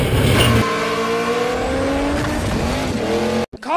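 A loud, close Ford Maverick drag racing car engine roars and climbs through rising harmonic sweeps as it accelerates hard, cutting off briefly near the end before revving again.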